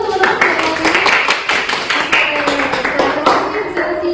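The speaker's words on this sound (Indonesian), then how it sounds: "Tepuk tangan dulu teman-teman" Students applauding in a polytechnic classroom after a group presentation, close, loud, uneven clapping from a small group with distinct individual claps, lasting about four seconds.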